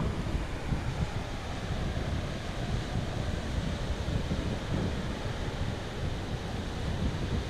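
Steady roar of surf at Şile, with waves washing in continuously, mixed with wind noise, no voices.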